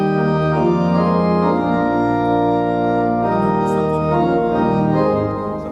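Keyboard sounding a sustained minor chord variation, with rich held tones that shift gently between voicings, loud and close with no talking, fading slightly at the end.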